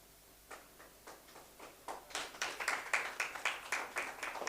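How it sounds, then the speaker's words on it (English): Clapping from a small audience at a university debate competition, starting as a few scattered claps and building into steadier, louder applause for a National University of Science and Technology team. "Big round of applause for us, ladies and gentlemen."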